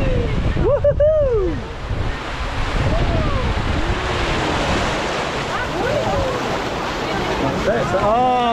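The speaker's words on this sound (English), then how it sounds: "Oh, water effects on the side." Rushing, splashing water and wind roar loudly around a fast lazy river ride at Djurs Sommerland, with excited voices calling out over the steady wash.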